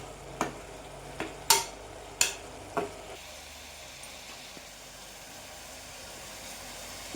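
Bottle gourd sautéing in a pan, several sharp spatula knocks and scrapes in the first three seconds, then only a faint low sizzle, no talk.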